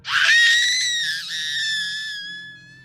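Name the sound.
woman screaming for help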